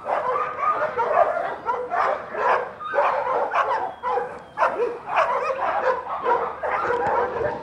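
Several dogs at a humane society shelter bark and yip continuously in rapid, overlapping bursts, loud and close, filling the whole stretch with barely a pause.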